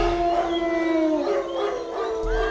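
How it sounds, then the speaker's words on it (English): Wolves howl in long, sustained, gliding tones that overlap and bend downward, a steady mournful chorus with no talking over it. "the wolves began to howl"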